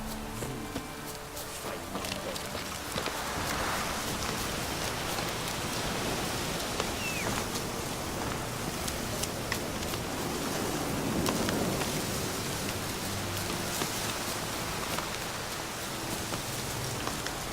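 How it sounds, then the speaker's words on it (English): Rain in the video game The Witcher 3: Wild Hunt, a steady hiss of falling drops on surfaces lasting throughout, soft and continuous with faint scattered rustles. "Looks like rain."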